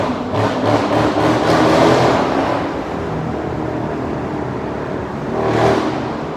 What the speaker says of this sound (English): That car trying to keep up.